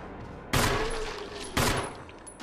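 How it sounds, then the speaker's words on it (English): Two loud, close gunshots in Resident Evil HD Remaster, about a second apart, each with a short ringing decay. "Still needed to shoot him a few times after stabbing him."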